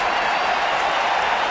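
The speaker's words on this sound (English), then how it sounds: "And the crowd getting into it." Broad, steady roar of a baseball stadium crowd cheering and applauding in Minnesota, loud and continuous without letup.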